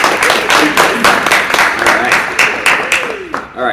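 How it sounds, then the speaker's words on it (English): A studio audience claps and applauds steadily to welcome a guest onto a podcast show, dense and fairly loud throughout, with voices calling out over the clapping. "You can clap."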